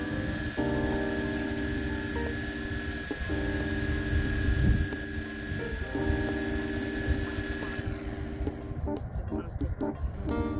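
A small camera drone hovers and flies outdoors on a hike, its rotors giving a steady, high buzzing whine whose pitch shifts in steps as it maneuvers, fairly close by.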